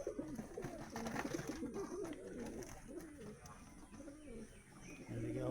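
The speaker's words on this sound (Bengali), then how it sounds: "পায়রাগুলোকে দেখানোর চেষ্টা করি একটু।" Pigeons in a loft cage, high-flying kabootar, coo in steady overlapping low calls with a few chirps, close and moderately loud and continuous throughout; light rain begins outside.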